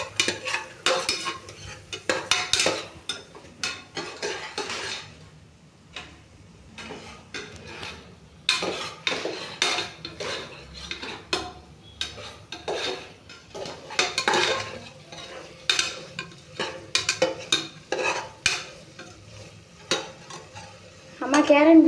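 Ginger and garlic sautéing in a pan for vegetable biryani, a quick rhythmic scrape and clatter of a metal spoon against the pan over a soft sizzle, close and busy with brief pauses, no talk.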